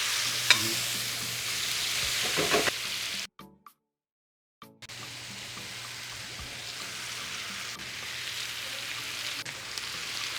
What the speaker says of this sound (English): we've added a couple splashes more oil so that we can get a grilled effect on our vegetables